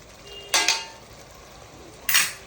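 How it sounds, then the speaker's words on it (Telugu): Two short metallic scrapes of a spoon stirring chilli powder and salt into chicken curry in a pan, spaced apart, fairly close and alone without talk. "వేసుకొని కొంచెం మిక్స్ చేసుకోవాలి."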